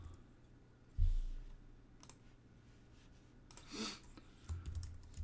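Quiet keys tap on a computer keyboard in short scattered bursts of clicks, with a louder thump near the start and a cluster of typing toward the end.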